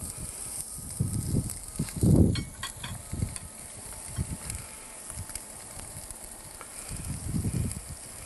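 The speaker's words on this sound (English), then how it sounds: "You can hear it, things sizzle." Steak sizzles faintly on a hot grill, a soft crackling hiss broken by occasional clanks and scraping of utensils.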